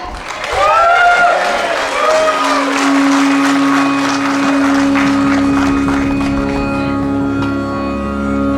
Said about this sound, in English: a huge round of applause for the Mariners away